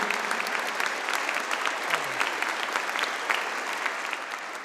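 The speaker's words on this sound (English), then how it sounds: "You can give her a bigger round of applause than that." An audience claps steadily after a performance at a school orchestra concert, a dense and even round of applause that keeps going throughout with no voices over it.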